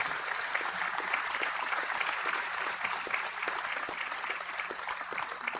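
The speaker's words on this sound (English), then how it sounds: "we should give her a huge round of applause for her continuous, sustainable work" Sustained applause from a summit audience welcoming a prime minister and climate-finance champion, dense and even clapping filling the whole stretch without a break.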